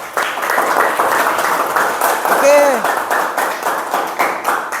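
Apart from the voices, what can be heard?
audience applause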